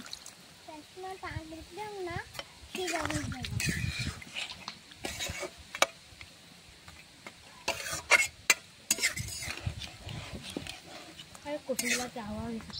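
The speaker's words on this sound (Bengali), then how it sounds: "মাছটাতে আমি জল দিয়ে দিচ্ছি।" Water goes into a pan of spiced fish curry, bringing bursts of sizzling and spoon scraping, close and moderately loud, while a person talks over it.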